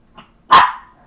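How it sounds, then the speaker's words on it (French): A single loud, close dog bark rings out indoors, preceded by a faint small sound and trailing off quickly. "Là, il est en train d'aboyer."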